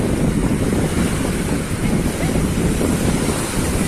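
Ocean waves surge and break at RK Beach as a steady, loud roar of surf, with wind buffeting the microphone throughout and no clear voices.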